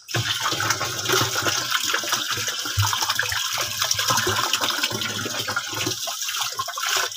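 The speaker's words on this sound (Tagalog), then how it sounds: "Tapos hugasan mo nung" Water gushes and splashes steadily as a container is rinsed out while herbicide and chlorine spray mixes are prepared on a bitter gourd farm, loud and continuous throughout.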